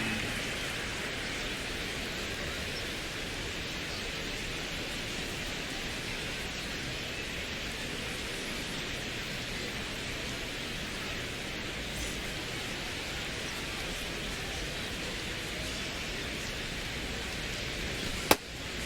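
Steady rain pouring over a baseball ballpark in MLB The Show 26, a constant even hiss with no breaks, moderately loud, alone with no talk.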